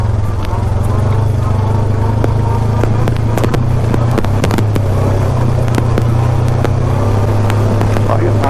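A steady low engine drone idling in second gear on a hill along a trail near Sussex, New Brunswick, holds throughout, with sharp clacks and knocks scattered over it, loud and close.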